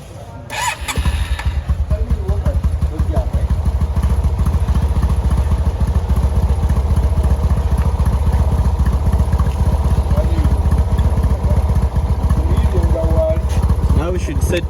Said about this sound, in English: Now we are going to start up the engine, then we test for the AC, and then we see if the stator is okay.